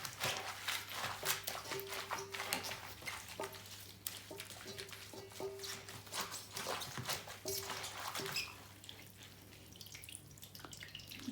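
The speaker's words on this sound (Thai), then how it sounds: "แล้วก็เอาไปล้างหลายๆน้ำค่ะ" Pickled wild garlic is rinsed under running water, with a steady trickle and irregular drips, splashes and handling clatter close by, a low hum beneath.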